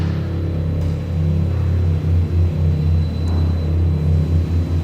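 Low, steady electric drive hum from a 2020 Porsche Taycan 4S set to Sport Plus mode, a sustained synthetic spaceship-like drone with faint pulsing overtones, heard close from inside the cabin with no talk.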